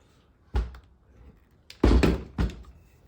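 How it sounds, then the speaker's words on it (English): A Ryobi 18V cordless nailer stapler set to non-contact firing, giving a few dull, close thumps with short mechanical clatter between stretches of quiet. "I put it on non-contact firing, so you push it down"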